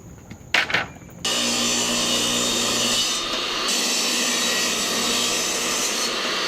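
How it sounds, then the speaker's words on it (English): A table saw rips wooden boards into thin strips, starting with a few knocks and a spin-up, then a loud steady whining cut that holds for several seconds. "I'm going to have to run it all through my table saw one more time to rip it all down."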